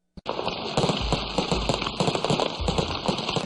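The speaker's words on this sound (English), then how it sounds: "It's an event worthy of fireworks and elaborate celebrations." Fireworks and firecrackers at a factory opening in Dalian, China, starting with one sharp bang and then a dense, crackling barrage of rapid pops that stays loud and continuous throughout.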